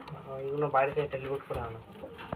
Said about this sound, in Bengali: এখানে একজোড়া ট্যাডি পায়রা দেখুন সাকি ট্যাডি এই যে ডিমে বসে অরিজিনাল পায়রা